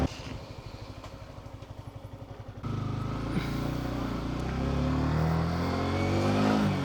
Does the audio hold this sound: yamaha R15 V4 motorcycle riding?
yes